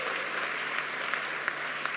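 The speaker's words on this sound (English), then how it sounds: "we'd like to give you a round of applause." Members of a women's sector parliament give a round of applause in the House, a steady, moderately distant clapping texture with a few sharper individual claps standing out.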